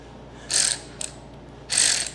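A ratchet socket wrench cranked on a 4L60E transmission during a 4WD to 2WD conversion, two short bursts of rapid clicking with a single faint tick between them, close and alone.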